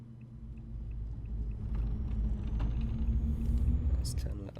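MAN TGA truck with a big engine driving in Euro Truck Simulator 2, a deep, steady engine rumble that slowly builds in loudness, with faint clicks and a short high tone near the end.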